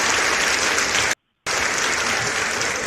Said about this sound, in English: I have to put the round of applause up there